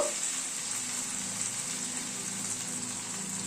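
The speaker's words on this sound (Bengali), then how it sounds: "এবার একটু গরম জল অ্যাড করছি গ্রেভির জন্য।" Hot water pours steadily into a pan of chicken Dhaka korma gravy that has been frying in spiced oil, giving a soft, even hiss and gush throughout.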